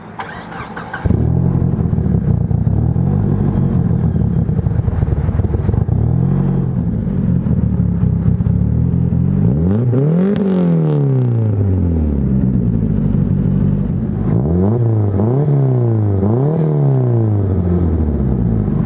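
A 1997 Mitsubishi Eclipse Spyder GST engine with straight stainless exhaust piping and one canister muffler starts and idles with a deep, loud exhaust rumble, then is revved several times, each rev rising and falling sharply.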